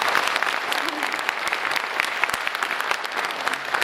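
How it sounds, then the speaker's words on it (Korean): Audience applause at a church lecture gathering thanking a visiting pastor, steady dense clapping throughout at moderate level with occasional brief voices underneath. "감사와 격려의 박수를 크게 한번 하시겠습니다"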